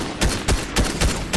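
Gunfire in the Fortnite video game, a no-build mode match: four loud, evenly spaced bursts of shots ring out close by over a constant background of game ambience.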